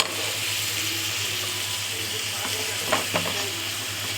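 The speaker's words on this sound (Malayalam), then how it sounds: "അപ്പോഴത്തേക്ക് നമ്മുടെ സവോള വഴറ്റി കറിക്കുള്ള മിക്സാക്കി വെക്കാം." Onions sautéing in a pan for Thalassery chicken dum biryani, a steady even sizzle with a couple of brief stirring scrapes near the end, close and without talk.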